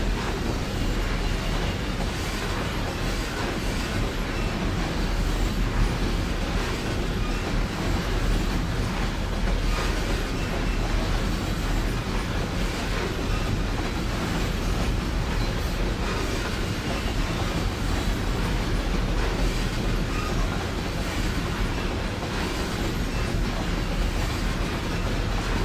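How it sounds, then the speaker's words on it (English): A heavy train runs in the Trainz railway simulator game, a dense, continuous low rumble with wheel clatter and faint flange squeal, loud and steady throughout, with no one speaking. "it's making that train actually sound heavy"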